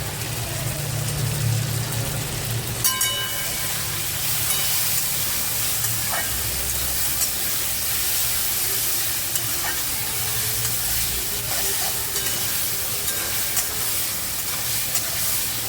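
A masala paste with Kashmiri red chili powder sizzles steadily in a pan as it is stirred and fried, a dense continuous crackle with occasional scraping strokes and a faint low rumble underneath, no one talking.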